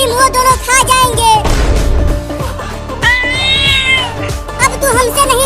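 A cartoon cat gives drawn-out, wavering meows and yowls, loud and close, repeating in several long cries with bursts of noisy clatter between them.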